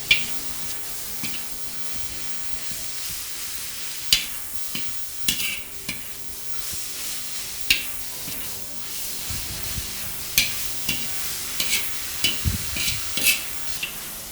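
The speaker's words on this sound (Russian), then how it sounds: "Фарш я жарю почти что до готовности." Minced meat sizzles softly in a pan, a steady low frying hiss broken by scattered stirring scrapes and taps, with no talking.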